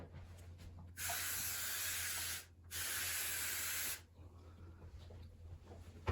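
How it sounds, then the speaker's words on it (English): Two long bursts of hissing spray of mold control liquid, each lasting over a second, separated by a brief pause, followed by quieter handling sounds. "we're simply going to spray it over our problem area."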